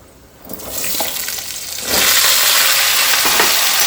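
Ingredients for labra mixed vegetable curry poured together into a hot pan, a rushing hiss that swells into a loud, steady sizzle, with faint clinks.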